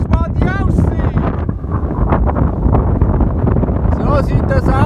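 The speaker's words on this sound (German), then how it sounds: "denn es stürmt. Der Wind ist zwar warm vom Süden" Strong, warm southerly wind roars across a hilltop lookout in Tunisia, buffeting the microphone continuously while someone talks loudly over the gusts.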